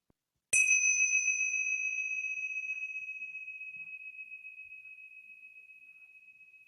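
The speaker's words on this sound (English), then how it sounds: "we'll start and end this practice with the sound of the bells" A single meditation bell is struck once and rings with a clear, pure tone that hangs in the quiet and fades slowly over several seconds, alone with no voices.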